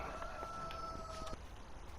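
A rooster crows in the farming video game Farming Simulator 19, a faint, drawn-out call heard once at a distance over quiet background sound.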